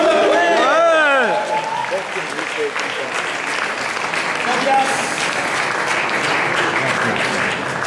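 At a slam poetry contest, an audience bursts into steady applause that carries on for several seconds, close and full, while a voice speaks briefly at the start.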